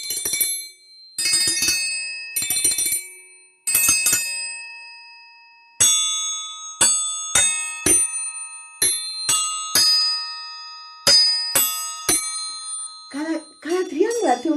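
Triangles of different sizes ring out in a children's music session. There are several clear metallic strikes, each with a long shimmering ring, some singly and some in quick succession. A voice speaks briefly at the end.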